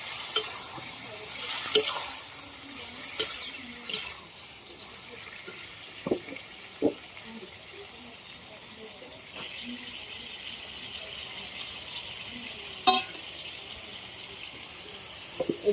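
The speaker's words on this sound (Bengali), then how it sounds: "এবার আমি গরম জল দিয়ে দেবো।" Jackfruit chicken curry frying in a pan takes a pour of hot water, a steady hiss and sizzle with scattered sharp clicks and stirring knocks, close and continuous.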